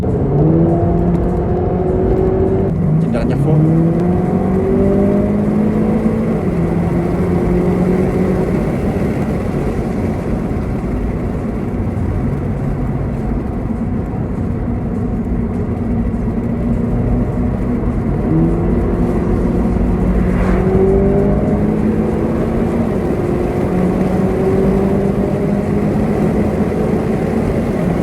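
A 2011 Volkswagen Polo GTI engine hums continuously inside the cabin, with revs climbing through gears in a couple of rising sweeps; a voice speaks briefly.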